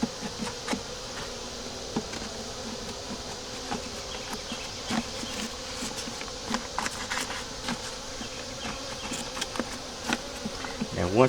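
Honey bees buzz in a steady, dense drone throughout while two nucs are combined using paper, one with a queen and one without, with a few sharper nearby buzzes passing close.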